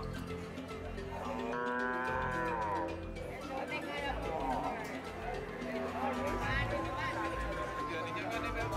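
Cattle moo repeatedly at a busy livestock market on Sapudi island, the drawn-out lowing calls rising over a constant crowd murmur and chatter.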